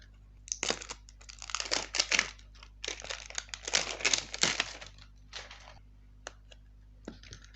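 Plastic wrap is peeled and crinkled off an Itel Power 700 phone box, a close, quiet run of irregular crackles and rustles with short pauses between bursts.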